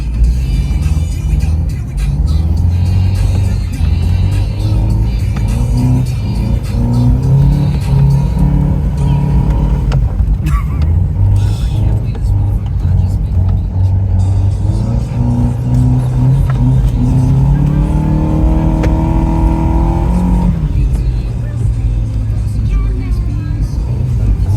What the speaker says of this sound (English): That's how you drift a Tercel